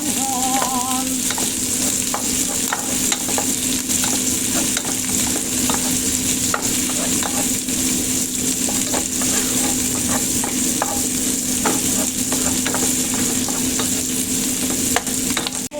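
Onion frying in a pan, a steady close sizzle running throughout with occasional stirring scrapes and clicks, no voices.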